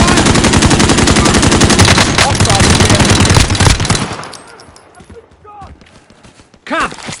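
Rapid automatic gunfire rattles loudly in a PS4 shooter game for about four seconds. A voice shouts over it, then the shooting fades into sparse shots and quieter game sounds, ending in a brief burst of noise.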